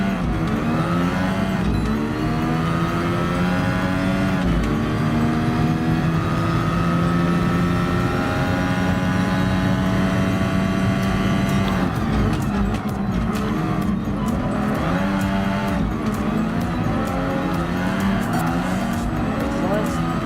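Lotus 97T Formula 1 race car in Gran Turismo Sport, its engine howling steadily and loud throughout, pitch climbing and dropping through gear changes and corners, with occasional tire squeal.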